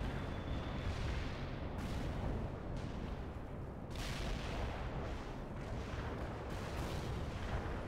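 Artillery fire and explosions in the strategy video game World in Conflict, a continuous dense wall of heavy booms and rumbling blasts with sharper hits every second or so, loud and sustained throughout.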